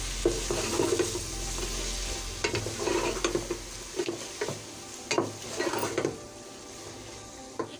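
Okra frying with tomato and green chilli while being stirred in a pan, steady sizzle broken by repeated spatula scrapes and clinks, close and moderately loud with no talking.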